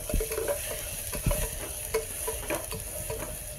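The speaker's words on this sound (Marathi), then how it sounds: "फ्राय करून घ्यायचं आहे।" Onion masala sizzles steadily in a pan while being stirred, with a few sharp scraping clatters of the spoon over a constant close fry hiss.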